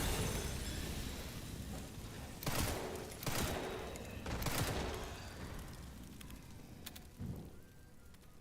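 Gunfire in the survival horror game Resident Evil Requiem, several loud bursts of shots in a row over a low rumbling ambience, with quieter pops near the end.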